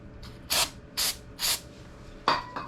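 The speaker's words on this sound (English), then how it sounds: "you want to use brake cleaner and the napkin, spray a little bit" Brake cleaner sprays onto a napkin in four short bursts, the first three evenly spaced and the last slightly longer, each a sharp close hiss against a quiet workshop background.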